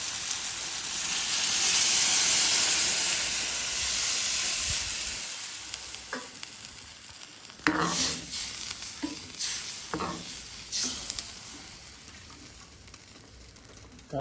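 Coconut milk poured into a frying green chili curry with tomato, a steady wet sizzle and hiss that fades slightly, then broken by several sharp bursts of spattering and stirring near the pan.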